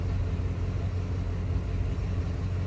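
A 1973 Dodge Charger rumbles along the road, its low steady engine drone continuous and moderately distant, with no talking.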